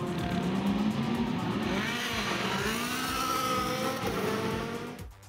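Race cars roar off the line at the flag to open a 12-hour endurance race, engines rising and shifting together as the pack accelerates past close by, loud and continuous before fading away at the end.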